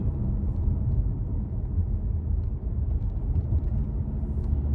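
Steady low engine rumble and road noise from inside a car on a drive to work, continuous and fairly loud with no talking.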